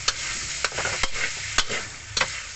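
Noodles with pork and seasonings stir-fried in a pan, a steady close sizzle broken by several sharp spatula knocks and scrapes at uneven intervals.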